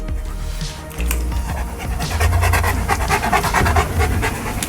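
A mother dog reunited with her daughter pup pants rapidly and steadily up close, with quick rhythmic breaths and a faint rustle of movement beneath them.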